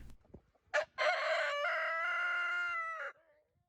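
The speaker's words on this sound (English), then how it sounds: "We have a variety of laying hens and 2 roosters" A rooster crows once, a long, loud call that stretches for about two seconds, with a brief squawk just before it.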